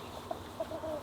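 A laying hen clucks softly in a backyard henhouse, several short low clucks spaced through the second over a steady ambient background.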